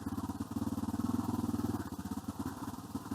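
A big adventure motorcycle, a T7, rides a rough track, its engine thrumming in a steady, pulsing beat that rises and eases, close and loud over wind noise.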